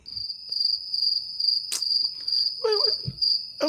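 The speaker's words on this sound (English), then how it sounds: "Okay. Cricket." A cricket chirps steadily in a high, continuous trill with brief rhythmic pulses, close and clear, while a voice briefly murmurs near the end.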